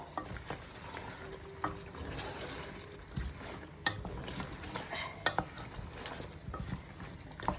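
Boal fish curry with fresh flat beans is stirred in a pan, soft irregular scrapes and knocks over a low bubbling hiss, faint and close with no talking.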